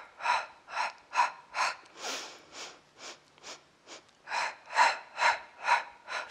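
Heavy rhythmic breathing during a Pilates full-body workout with weighted balls, about a dozen loud close inhales and exhales in a steady pulse, with no talk.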